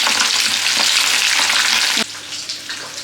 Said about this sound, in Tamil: குழம்பு நல்லா கொதிச்சிருச்சுங்க, மீனும் வெந்துருச்சு பாருங்கள்.